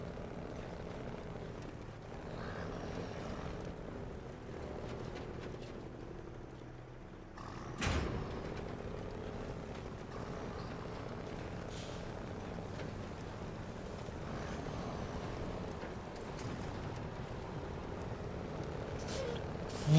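A truck engine in the video game SnowRunner runs with a steady low rumble and drone, with a sharp hiss burst partway through and a faint voice at moments.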